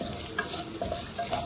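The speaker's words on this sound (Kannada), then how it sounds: "ಎಲ್ಲ ನೀಟಾಗಿ ಮಿಕ್ಸ್ ಮಾಡ್ಕೊಳ್ಳೋಣ." Spices frying in oil in a pan for jeera rice are stirred with a utensil, giving a close, continuous sizzle with a few light scraping clicks.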